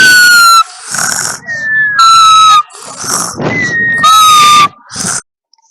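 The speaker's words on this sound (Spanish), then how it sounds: "Ronquido." Cartoon-style snoring from sleeping farm animals in a children's story: loud, rough snorts alternate with high whistling exhales in a slow repeating rhythm, then stop abruptly.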